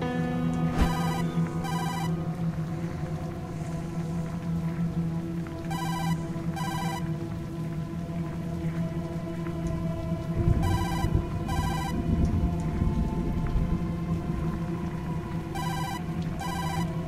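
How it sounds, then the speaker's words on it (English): A phone rings in the video game Tokyo Dark with a repeating electronic ringtone in regular paired bursts, heard over a steady ambient game music bed. "No doubt about it, that's Kazuki's phone, alright"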